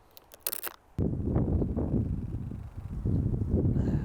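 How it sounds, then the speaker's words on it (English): Outdoor wind buffets a microphone, starting as a sudden loud, low roaring rumble after about a second of light clicks, then continuing steadily to the end with small swells. "this wind is a little brutal today"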